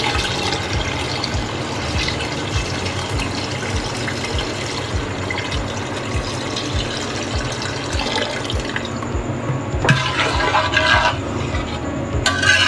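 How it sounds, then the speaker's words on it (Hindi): Water pours steadily and loudly into a cooking pot of rice, a continuous rushing splash with a faint rhythmic thumping underneath. "अब हमने इसमें पानी डाल दिया।"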